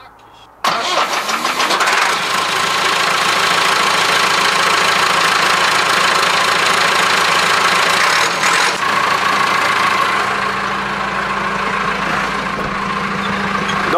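A Massey Ferguson 3050 Turbo tractor engine, unstarted for about a month, cranks briefly, catches and roars loudly to life, then settles into a rough, steady idle with a low knocking rumble.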